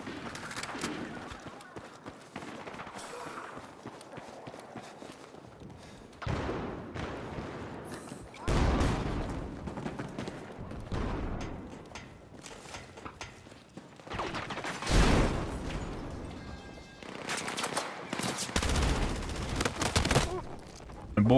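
Rapid bursts of automatic gunfire and scattered shots ring out in a Battlefield 6 match, loud and close, with quieter gaps between mechanical clicks and game noise.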